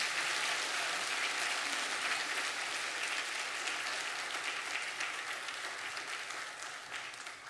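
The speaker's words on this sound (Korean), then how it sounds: "박수하겠습니다." A church congregation applauds together during a Sunday worship service, a steady, dense clapping that fills the room evenly and tapers off slightly toward the end, with no voices over it.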